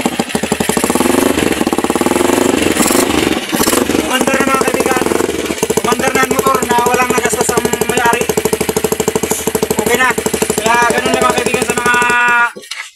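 A motorcycle engine, restarted after CDI troubleshooting, runs loud and close with a rapid, rough, steady firing rhythm that revs up and settles for about twelve seconds before cutting off abruptly.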